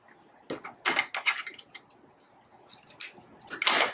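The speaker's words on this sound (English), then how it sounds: "merely cut it, pull your strip out, and then you just trim the chenille" Scissors snipping and trimming chenille bias strips, a few close, crisp cuts in irregular short bursts with quiet gaps between.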